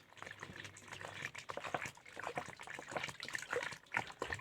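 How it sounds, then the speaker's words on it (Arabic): A litre of water pours in a faint, continuous trickle into a homemade liquid soap mixture made from orange peels. "هنا بحط بالظبط لتر ميه."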